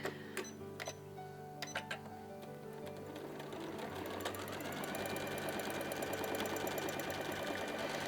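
A sewing machine stitches continuously as it sews swirl patterns into fabric for bleachwork floral embroidery, a steady close, fairly loud mechanical whir with a few sharp clicks near the start and no talking.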